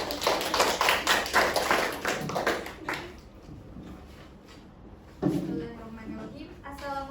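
Dense applause from an audience at a student presentation on basic accounting concepts fills the first three seconds, then fades as a single voice begins speaking, later joined by another brief burst of sound.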